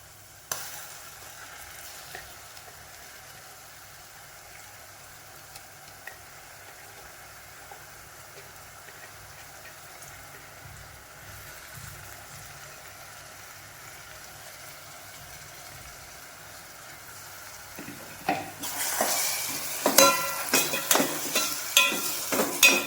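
Onion and tomatoes sauté for dal tadka in a pan, a soft steady sizzle running low for most of the stretch, then louder crackling spatters and stirring scrapes near the end.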